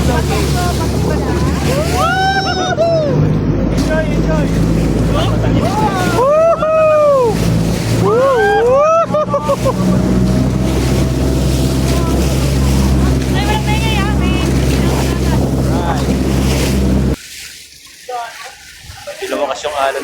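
A boat rides over strong, high waves off Calatagan, its engine droning loudly under rushing water and wind buffeting the microphone, with a voice calling out excitedly before the noise suddenly drops near the end.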